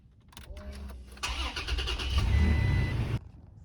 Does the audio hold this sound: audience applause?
no